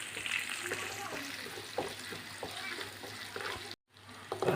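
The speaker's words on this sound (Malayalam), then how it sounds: "മൂന്നാലഞ്ച് കൂടം വെളുത്തുള്ളി മൂന്ന് പച്ചമുളകും ഇത് നല്ലപോലെ നമുക്കൊന്ന് ഫ്രൈ ആക്കിയെടുക്കാം" Garlic, chopped ginger and green chilies fry in a pan for chicken stew, a soft continuous sizzle with light clinks, close and fairly quiet, cutting out briefly near the end.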